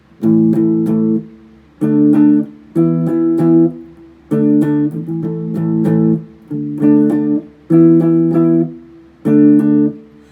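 An electric guitar plays the intro riff of a song, a repeated chord riff of short strummed bursts in a steady rhythm, clear and up close with no talking.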